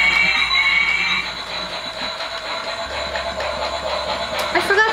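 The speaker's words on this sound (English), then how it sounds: "So this is the train set this year." A small pink DIY toy train set runs on its track amid snow fluff decorations, a steady mechanical ratcheting whir with faint clicking of the wheels, close and continuous throughout.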